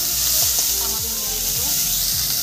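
Chopped onion goes into garlic already frying in oil, giving a loud, close, steady sizzle with regular scraping stirs about every half second and no talk.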